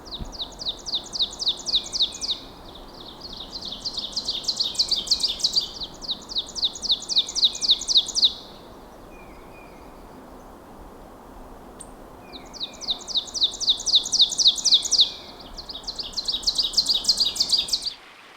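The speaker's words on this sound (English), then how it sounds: "So warbler number 1 is ovenbird, which I was able to video just after it arrived" An ovenbird sings a loud, accelerating series of ringing, repeated two-note phrases, several songs in a row with short pauses, close by against a soft background hiss.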